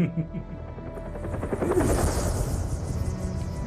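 Helicopter in the Hitman: Absolution video game, a close, loud rotor drone with rapid chopping pulses that swells and holds steady, with voices briefly heard over it.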